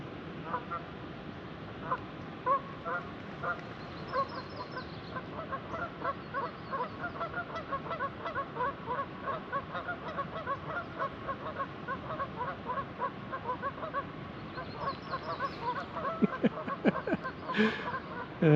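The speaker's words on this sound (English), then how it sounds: "Geese are having a squabble about something." Geese squabbling during nesting season at Ross Lake near Hope, BC, with repeated rapid honks and harsh overlapping calls, fairly distant and moderately quiet, rising into louder bursts near the end.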